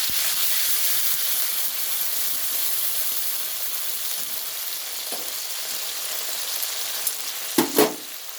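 Chopped ginger frying with fenugreek in a pan for a Bangladeshi-style home dish, giving a steady close sizzle and hiss throughout, with a few louder bursts of spitting near the end.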